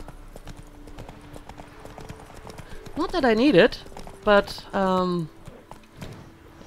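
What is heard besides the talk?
horse hooves clip-clop in The Witcher 3 video game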